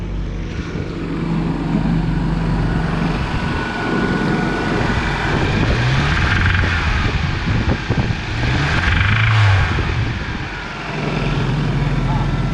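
A 1997 Toyota Tacoma pickup's 2RZ-FE engine, with a failed oil pump, runs loud and close, its revs rising and holding in a steady drone while people talk over it.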